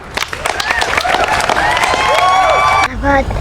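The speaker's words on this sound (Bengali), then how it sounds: "সিয়ামের জন্য হাততালি দাও" Children clap for a boy named Siam, a quick, ragged burst of close claps with high young voices over it. It breaks off briefly before a voice carries on.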